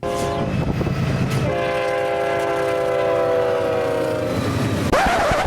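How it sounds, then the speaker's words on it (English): A westbound loaded dried distiller's grain freight train led by a Union Pacific GEVO locomotive, its horn sounding in long steady blasts over rumbling wheels and rail noise, fairly close and loud. "It was a westbound loaded dried distiller's grain train with a UP GEVO leading"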